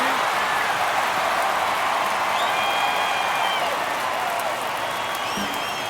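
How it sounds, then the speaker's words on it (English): Baseball crowd in a Blue Jays vs Cardinals game in the ninth inning of a one-run game, applauding in a steady, sustained roar of clapping and cheering throughout, with light commentary under it. "Crowd locked in right now."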